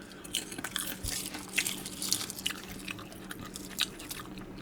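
Close, steady crunching and chewing of a crisp snack, with irregular bites over a quiet background hum.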